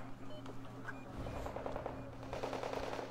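Faint machine gun fire in a strategy game battle, heard as rapid crackling bursts of shots over a steady mechanical hum, growing denser toward the end.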